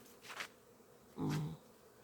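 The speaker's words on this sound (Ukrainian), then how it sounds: "От пчелки літають наші трошки." Honeybees buzz past near beehives in early autumn, two brief faint flybys, the second louder and closer, over a quiet outdoor background.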